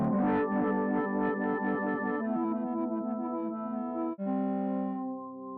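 A synth tone processed by Ableton Live's Roar distortion, with drive added to the mids, plays as bright, buzzy repeated notes that thin out into a sustained, harmonically rich chord ringing out alone.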